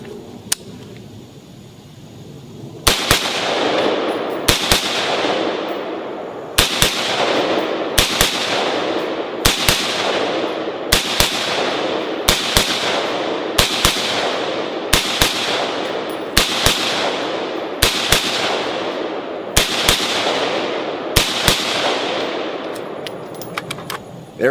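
Rifle shots from one magazine at standing firing practice, about fifteen sharp loud cracks spaced a second or two apart, each trailing a long echoing decay outdoors.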